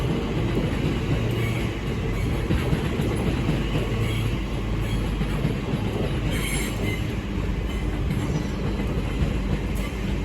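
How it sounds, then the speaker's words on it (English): A Great Western Railway passenger train from Penzance to London Paddington departs Reading station, a steady loud rumble of wheels and carriages running close by for the whole stretch, with faint wheel squeal and no talk. "And behind me departing is the 12:08 Great Western Railway service from Swansea, from Penzance to London Paddington."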